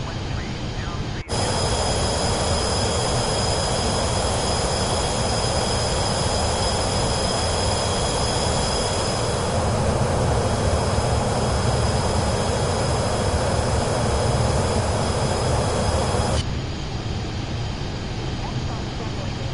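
Airliner taking off from runway 16 left in Microsoft Flight Simulator 2024, a loud steady jet roar with a high engine whine that starts abruptly and cuts off near the end.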